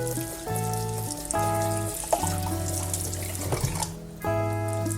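Cold tap water runs steadily into a sink while an octopus is rinsed and cleaned, a close, continuous splashing flow with shifting tones as the stream strikes the flesh and basin, with no talk.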